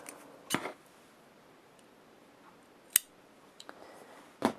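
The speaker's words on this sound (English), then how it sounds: "I'm going to cut my yarn here" Scissors snip through crochet yarn in three sharp, close clicks spaced a couple of seconds apart, with only faint room noise between them.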